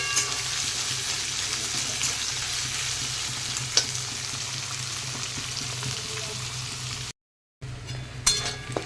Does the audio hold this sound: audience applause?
no